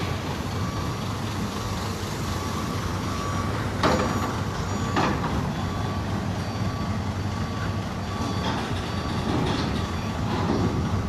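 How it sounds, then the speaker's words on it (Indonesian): Trucks queuing at dock 2 of Bakauheni port to board a ferry rumble in a steady, loud engine drone, with a few sharp clanks and a faint beeping tone, no talk. "Kita lihat beberapa truk sedang antri untuk masuk kapal."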